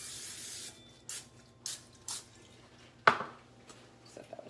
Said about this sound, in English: coat a 9x13 dish with cooking spray